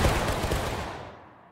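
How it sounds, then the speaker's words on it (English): Union infantry in the Civil War game War of Rights fire a musket volley in a cornfield fight, a loud ragged crackle of many shots that rolls together and fades out over about a second. "What a bad volley, guys!"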